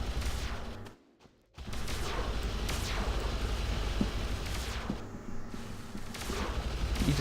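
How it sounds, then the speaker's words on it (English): Turrets firing in the sci-fi game Planet Explorers, a dense fusillade of rapid shots and booming blasts that runs almost continuously, with one brief drop near the start, and no talking over it. "You just got to love them turrets shooting down like that."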